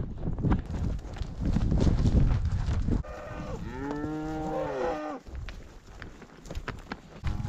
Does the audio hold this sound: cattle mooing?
yes